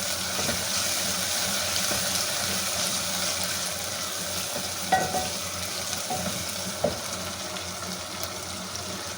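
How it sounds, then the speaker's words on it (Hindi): Mutton sizzles in a pan with browned onions and spice paste for a curry, a steady frying hiss with occasional stirring knocks and scrapes and no voices. "अब हम इसे अच्छे से भून लेंगे"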